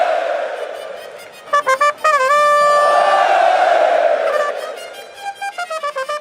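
An arena crowd roars at a CS:GO Major semifinal, Team Vitality vs Apeks at the BLAST.tv Paris Major 2023. The loud, sustained cheering and chanting swells, with rhythmic bursts of shouting near the start and end.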